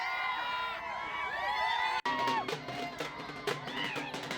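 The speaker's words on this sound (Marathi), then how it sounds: "कार्यकर्त्यांचा हा जल्लोष आपल्याला दिसतोय।" Party workers celebrating a Zilla Parishad election win, a lively crowd of shouting, whooping voices, steady at first, then a burst of louder, choppier cheering and yelling.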